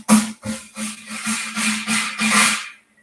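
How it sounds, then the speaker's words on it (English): Snare drum buzz roll played poorly on purpose, a patchy run of uneven pressed-stroke bursts with gaps and wavering loudness for about two and a half seconds, close and dry, ending in silence. "you don't want your buzz rolls to sound like this"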